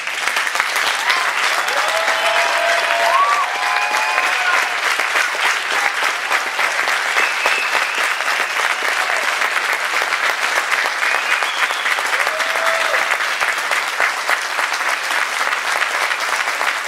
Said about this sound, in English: I want you to stand and I want you to cheer and I want you to thank these stewards